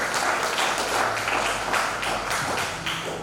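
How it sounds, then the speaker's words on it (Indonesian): Guests applaud at a wedding ceremony, a steady wash of clapping with a few louder thumps, moderately close and continuing for a few seconds without talk. "Mari kita beri tepuk tangan dulu saudara."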